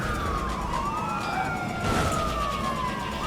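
Police car sirens wail in the video game Watch Dogs 2, several overlapping rising and falling tones sweeping continuously at moderate loudness over a low vehicle rumble, with no speech.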